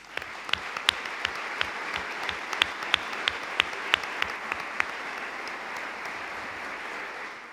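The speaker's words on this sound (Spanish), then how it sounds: "no sé si procede que podamos darles un aplauso." Applause from a church congregation in Toledo honoring consecrated religious fills the space with steady clapping, a few sharper individual claps standing out, gradually thinning toward the end, with no talking.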